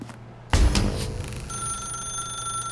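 In The Stanley Parable: Ultra Deluxe, a telephone rings with a sustained bright electronic tone that starts after a loud thump and carries on steadily at moderate volume.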